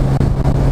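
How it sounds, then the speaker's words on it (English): Jaguar E-Type engine rumbles loudly with a deep, steady exhaust drone, broken by a couple of brief dips, with no talk over it. "they've got a great exhaust note"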